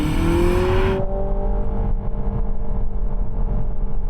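Honda Civic e:HEV accelerating hard on its electric motor, a loud rising whine and road roar that drops off sharply after a second, then a steady rumble continues.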